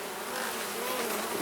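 Honeybees buzzing in the second brood chamber of a hive, a dense, continuous drone that is close and steady throughout, with no voices.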